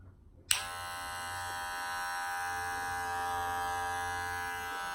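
After a moment of quiet, a cordless Wahl Magic Clip hair clipper switches on and runs with a steady, close, high-pitched buzzing hum.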